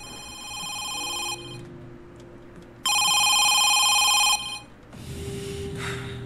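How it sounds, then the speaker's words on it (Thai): A phone rings inside the horror video game Home Sweet Home, with two clear electronic ring bursts separated by a short pause, followed by a rougher, noisier sound at the end. "โทรศัพท์เข้า"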